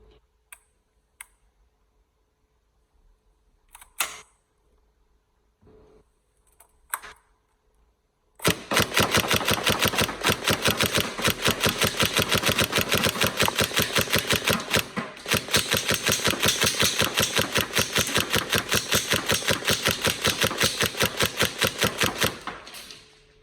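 A Tokyo Marui MP5A5 NGRS airsoft gun with an EagleSix upgraded M95 spring gives a few scattered clicks, then fires a long run of sharp, evenly spaced shots in rapid succession for about fifteen seconds.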